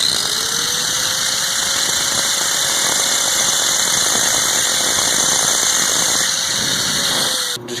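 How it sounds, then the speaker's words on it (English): A loud, steady mechanical drone with a sustained high whine as an angle grinder works against a part spinning in a drill press, continuous for several seconds before cutting off abruptly at the end. "Now that it's spinning, just take your angle grinder"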